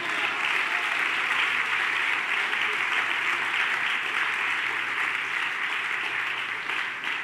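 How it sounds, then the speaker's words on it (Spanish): Congregation applauding during a church sermon: dense, steady clapping from a crowd fills the whole stretch, loud and unbroken, easing slightly at the very end. "Aplauso al Señor Jesús"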